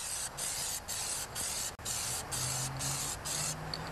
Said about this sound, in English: I started painting at this side of the fender.